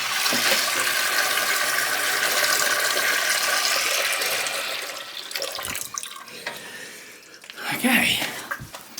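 Water runs steadily from a newly repaired faucet after a DIY plumbing fix, a loud constant rush that eases off partway through before a brief louder splash near the end.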